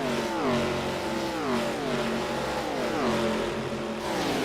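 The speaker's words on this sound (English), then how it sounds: "hearing cars whiz past the wall-mounted camera" ARCA race cars sweep past a wall-mounted trackside camera at Charlotte Motor Speedway, engines rising and falling in pitch as several cars whiz by in quick succession, loud and continuous with no talk.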